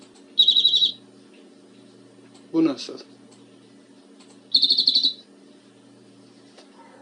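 Two short bursts of high, buzzy bird trill sound close by, separated by a brief spoken question in between.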